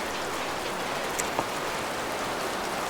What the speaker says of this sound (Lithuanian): Išpuolė lietus.